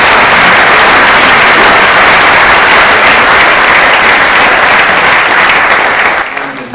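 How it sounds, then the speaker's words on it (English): Loud, dense applause from a large audience at a formal investiture ceremony, sustained and steady, then thinning slightly near the end. "Please give her a round of applause."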